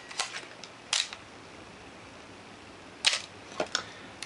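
Canon AE-1 film camera shutter firing at slow speeds: several sharp mechanical clicks in pairs, each opening click followed after a pause by a closing click, close and clear in a quiet room.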